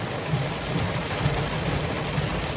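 Heavy rain pours steadily over a lake during a thunderstorm, a dense, close hiss with low rumbling thunder rolling underneath and no voices.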